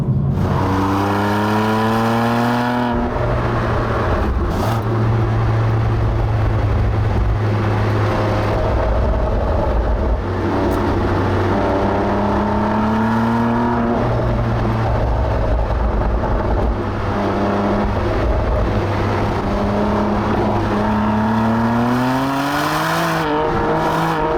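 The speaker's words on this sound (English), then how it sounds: "Let's now see how the car handles this same section" BMW M2 CS with comfort suspension and sport steering driven hard along a road section, loud engine revving up and down through repeated accelerations and gear changes, with brief tire noise, close and continuous without talk.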